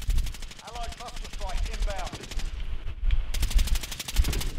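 Rapid automatic gunfire from the video game Warzone rattles in fast, even bursts, loud and close, pausing briefly before resuming, with a player's voice talking over the shots.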